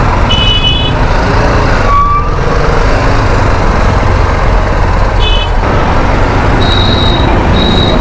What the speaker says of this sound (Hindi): एक्सट्रीम में ट्रैफिक है यार।